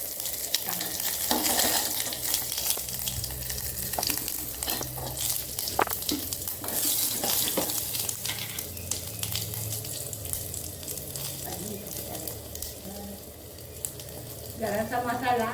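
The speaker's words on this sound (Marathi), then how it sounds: "जराशी मोहरी टाकली आणि थोडासा हिंग टाकते।" Mustard seeds and asafoetida sizzling in hot oil for a Malvani dal, a steady close crackle with sharp pops and a few stirring clinks, continuing with no voices.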